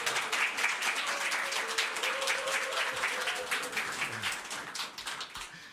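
A church congregation claps to welcome a visiting pastor at a Sunday service, lively sustained applause that gradually thins out toward the end.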